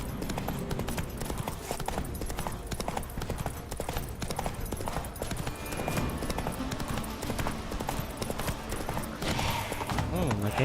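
Hooves of the horse Roach gallop rapidly in The Witcher 3 video game, a loud continuous clip-clop rhythm with game ambience and a voice speaking over it.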